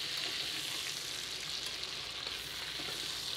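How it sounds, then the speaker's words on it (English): Roasted butternut squash pieces sizzling and frying in a pan while being stirred, a steady, close hiss with soft scraping and no voices. "Give that a stir, coating those pieces of roasted butternut squash."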